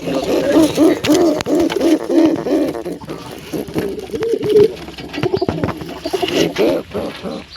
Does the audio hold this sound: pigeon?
yes